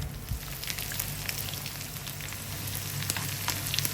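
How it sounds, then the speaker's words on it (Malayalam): Onions and curry leaves sautéing in hot oil for Kerala Angamaly-style mango curry, a continuous soft sizzle and crackle with scattered pops, steady and close, with no talking. "ഉള്ളിയും വേപ്പിലയും നമ്മൾ ഇട്ട് കഴിഞ്ഞ് നമ്മളൊന്ന് വഴട്ടാണ്"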